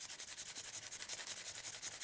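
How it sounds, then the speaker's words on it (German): Pencil hatching over paper laid on a garden leaf, rapid rhythmic back-and-forth scratching strokes, close and fairly quiet, about a dozen even strokes in quick succession with no voices. "Und wir schraffieren einfach unser Blatt."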